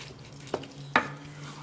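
Thick Bolognese ragu of meat, wine and soft cooked-down sauce being stirred in a pot, giving two brief wet scraping squelches about half a second apart against a low steady hum.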